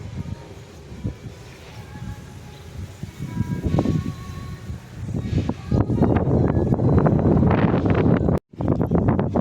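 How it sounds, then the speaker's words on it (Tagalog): Strong wind buffets the microphone in rough, rumbling gusts that build and grow louder, with rustling beneath and a brief dropout near the end. "Malakas ang hangin."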